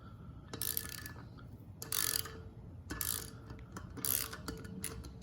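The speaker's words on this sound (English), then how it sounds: "slowly loosen it, and you can see it pushing the keepers into place" A valve spring compressor on an LS cylinder head being slowly loosened so the spring pushes the keepers into place, giving a few close mechanical clicks and ratcheting scrapes in separate bursts with quiet gaps between them.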